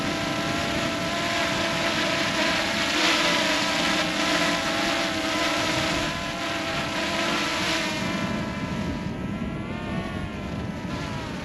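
A camera drone holds a steady hover outdoors in windy, freezing conditions around -12C, its propellers giving a constant loud whine that barely changes across the whole stretch, with wind noise underneath.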